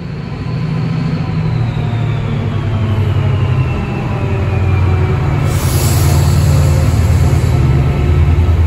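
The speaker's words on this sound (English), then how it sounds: "at the rear of the train is the Class 68 locomotive propelling the train" A British train propelled from the rear by a Class 68 diesel locomotive gives a loud, steady low rumble and drone that builds slightly over several seconds, with a high whine above it.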